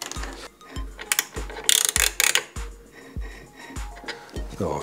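Bolts being loosened with a ratchet while a Toro eFlex Groomer mower is assembled in a workshop: repeated rapid clicking pawl strokes in a steady rhythm, close and crisp, with no talking.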